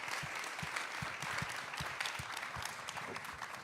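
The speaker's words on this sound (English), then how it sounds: "please, big round of applause for these fantastic panelists" Dense, fairly distant applause from an audience after a panel discussion on standing up to hate, steady and continuous throughout without any talking.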